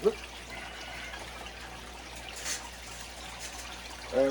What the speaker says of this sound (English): I'm going to run the day 3 cons through the sluice